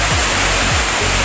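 Busay Falls waterfall in Cagay, Masbate roars loudly and steadily as a close, continuous wash of rushing water, with a couple of low thumps underneath.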